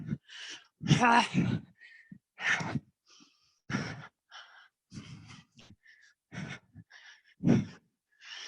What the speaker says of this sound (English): I'm breathing heavy too.